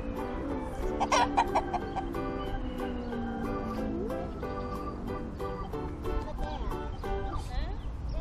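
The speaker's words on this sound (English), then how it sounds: "What are the chickens doing in the tree?" Chickens clucking in a tree, close and repeated in irregular bursts, with a rooster-like call among them and people talking over the sounds.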